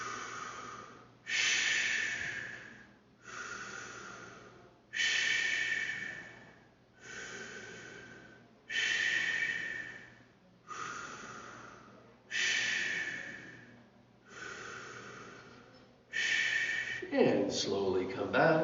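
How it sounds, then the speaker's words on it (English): Slow, deep breaths in a fitness class, about nine long even inhale-exhale cycles in steady rhythm, close and clear, with a brief louder rustle or voice at the very end. "And back to the deep breathing."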